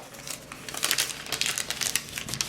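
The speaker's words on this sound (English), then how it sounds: "so I just iron the paper out." Crinkly coffee-dyed paper being pressed flat with an iron, giving close, irregular bursts of crackling and rustling as the stiff sheet shifts and crumples, with no voices.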